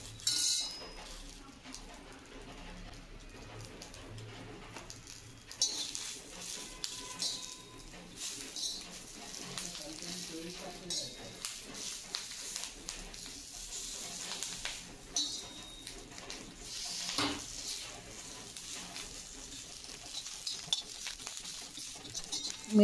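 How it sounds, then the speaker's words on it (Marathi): Green chillies roast in a little oil on a tawa, a quiet, low sizzle beneath intermittent scraping and clinking of a utensil against the pan, continuous and fairly soft throughout. "तव्यात थोडेसे तेल टाकून त्या मिरच्या तेलामध्ये छान 2 ते 3 मिनिटं भाजून घेऊयात"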